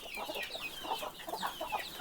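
Native country chickens kept alongside sheep on a farm cluck and chirp together, a soft busy chatter of several birds close by with no talk.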